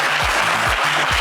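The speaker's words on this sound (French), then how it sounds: "Allez, on vous applaudit bien fort." A studio audience at a French television game show applauds a contestant with a short, loud, continuous wash of clapping, with low tones sounding beneath it.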